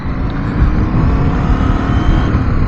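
A KTM 790 R motorcycle riding along a backcountry route, its engine making a steady, continuous loud rumble mixed with wind noise throughout, with no pauses and no voices.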